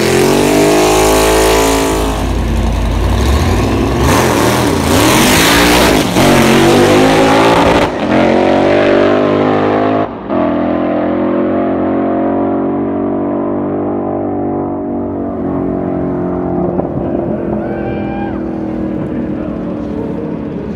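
A race car with a newly fitted shifter makes a full run, its engine loud and close as it revs hard through rising and falling gear changes. Roaring acceleration fills the first half, then a steadier drone fades gradually toward the end.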